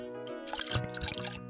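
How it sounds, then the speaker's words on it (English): A splash of oil added to a bowl of waffle batter ingredients, a short wet drip and dribble heard over background music. "Now we add a splash of oil."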